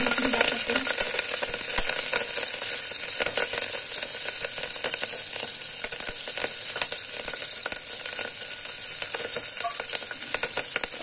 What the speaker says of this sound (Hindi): अब इसमें हम मिर्ची डालेंगे। मिर्ची हम हरा मिर्ची डाल देंगे।